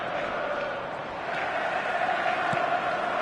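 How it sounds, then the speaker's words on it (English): Stadium crowd at a football match, a dense, sustained roar of cheering voices from a distance, steady and moderately loud throughout. "the crowd level has gone up a notch or 10"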